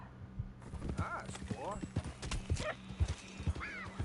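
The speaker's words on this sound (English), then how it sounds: "Oh, that was the damn horse." Horse hooves clip-clop in a steady trot in Red Dead Redemption 2, with a clear neigh rising over the hoofbeats and a voice talking alongside.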